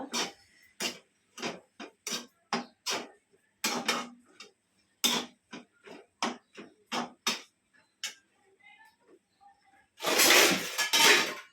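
Spoon clinking and scraping against a pan while mixing prawn and capsicum masala, a quick run of close, sharp metallic taps, then a louder burst of sizzling scraping at the end.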